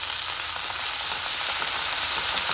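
Chopped tomato frying in a pan with curry leaves, a dense, even sizzle that holds steady without a break for the short stretch.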